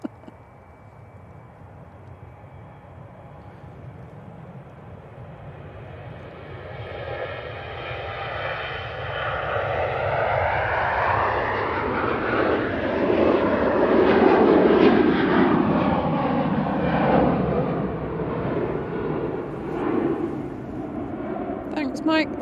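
Jet airliner at Manchester Airport swells from a distant whine into a loud, rumbling roar as it passes close by, then slowly fades, with people talking faintly at times.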